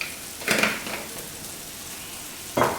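A tomato and tamarind rasam with salt is stirred in a pot over a soft, steady simmering hiss, with two short scraping stir strokes standing out close by.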